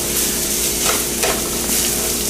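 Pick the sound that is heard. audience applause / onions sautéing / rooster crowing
onions sautéing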